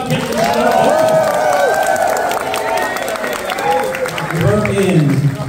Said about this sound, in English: You just heard a round of applause for the amazing tech crew